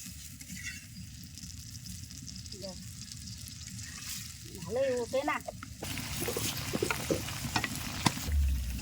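Pangas fish fries and is stirred with chili powder, salt and spices in a pan in a village kitchen, giving a steady close sizzle with scraping stirs, while a voice talks over the cooking.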